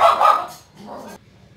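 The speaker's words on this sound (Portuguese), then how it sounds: "Quando a vizinha passa passeando com os cachorros, ela sempre late." A small dog barks a few sharp yips in quick succession at close range, with no voices over it, as a neighbour walks dogs past outside.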